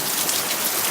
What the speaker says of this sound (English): I'm sick of rain